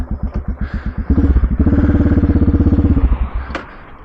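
Triumph or CCM motorcycle engine puttering in slow separate pulses, then firing into a rapid loud chugging idle, before sputtering out and stalling, with a short sharp click near the end.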